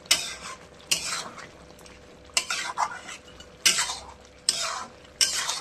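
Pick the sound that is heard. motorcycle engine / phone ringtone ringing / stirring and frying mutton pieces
stirring and frying mutton pieces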